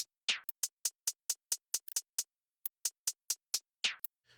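Hip-hop hi-hat pattern panned hard right, a quick run of crisp ticking hits with a couple of longer open hats swelling in, clear and fairly quiet with a short gap midway.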